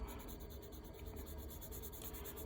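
Graphite pencil rubbing and blending across paper while shading the darker values of a drawn nose, a soft continuous scratchy hiss heard up close, with no talking.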